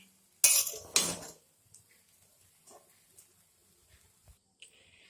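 Metal utensils clink sharply twice against a pan as fried rice is taken off the heat, followed by a few faint, scattered taps and scrapes in a quiet kitchen.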